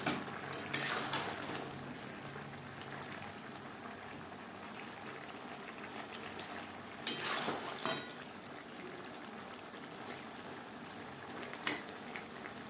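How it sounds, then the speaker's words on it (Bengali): Fried pabda fish simmers in a raw tomato curry in a pan, a faint steady bubbling and frying hiss with a few brief clinks and scrapes of utensils against the pan. "তিন চার মিনিট রান্না করে নেওয়ার পর দিয়ে দিলাম ভেজে রাখা মাছ"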